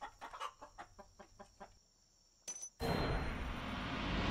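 A chicken in the MMO game Legend of Mir gives a quick series of rhythmic clucks, followed by a short blip and then a loud, steady burst of noise that fills the rest of the moment.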